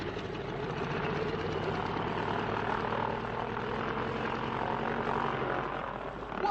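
A loud aircraft engine drones steadily and close throughout, with a thick rumbling, propeller-like throb and no pauses.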